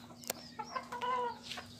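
Healthy chickens feeding inside a house coop give a few short clucks and rising calls, close and fairly loud, over a steady background hum.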